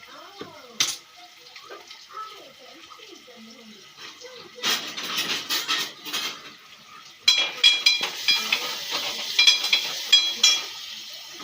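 Kitchen clatter of pots and utensils, with bursts of sizzling and splashing as something is cooked in a pot; voices talk intermittently.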